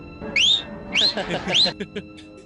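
A man whistles loudly in a film scene, a rowdy catcall aimed at a woman sitting alone, giving three rising whistle bursts in quick succession over background chatter.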